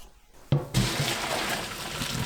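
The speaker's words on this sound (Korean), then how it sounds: "국수를 찬물에 비벼가면서 3번 반복해서 씻어주세요" Cold water runs and splashes over cooked noodles as they are rinsed by hand for a Korean gimjanchi guksu, a broad steady wash of water following a sharp start with no talking.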